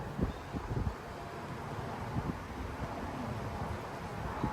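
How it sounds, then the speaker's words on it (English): Strong gusty thunderstorm wind around 30 to 35 mph in Frisco, Texas, a steady broadband roar with buffeting bumps on the microphone. "now we're getting strong wind gusts"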